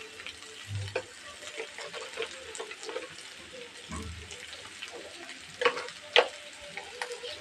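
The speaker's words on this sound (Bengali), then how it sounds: "দিয়ে দেবো ধনে গুঁড়ো, কষিয়ে নেবো" Coriander powder, cinnamon, cardamom and salt fry in a pan for a quail-meat and potato curry, giving a faint, low sizzle broken by a few sharp spoon taps and clinks, with some speech nearby.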